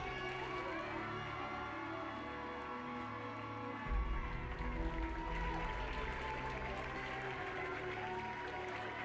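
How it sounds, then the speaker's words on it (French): Audience applause rises from about four seconds in at a prize-giving ceremony for a pony eventing competition in the minime class, a broad clatter over steady background music that continues under it. "je vous demanderai de les applaudir bien fort"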